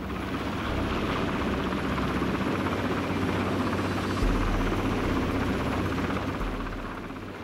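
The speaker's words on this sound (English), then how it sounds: "The rotors are just a few metres from the mountainside." A helicopter flies in freezing mountains near Loch Lomond with its rotors a few metres from the mountainside. Its loud, steady rotor chop and turbine drone fill the whole stretch and swell slightly midway, with no talking.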